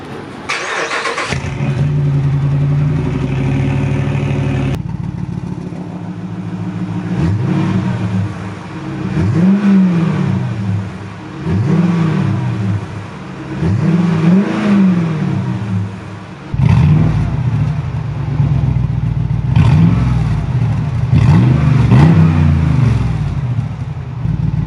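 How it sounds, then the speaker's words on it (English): A car engine fitted with open exhaust cutouts rumbles loudly at idle, then revs hard in a series of rising and falling pulls, alone and close by with no talking. "So now it's time to take this thing off the ramps and finally hear what this engine sounds like."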